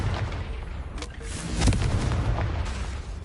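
A Confringo fire spell exploding in the Hogwarts Legacy video game, a deep rumbling blast with crackling bursts that swell and fade over a few seconds, loud and close.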